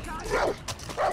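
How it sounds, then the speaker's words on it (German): Dogs bark and yip in the video game Far Cry 3, two short bursts of barking close by, with a player's voice talking over them. "Hunde können mir oben nicht viel anhaben."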